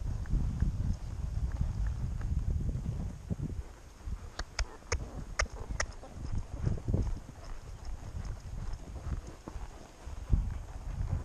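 A horse's hooves clip-clop at a walk during a ride on a windy day, steady close footfalls over gusty wind noise, with a few sharper clicks.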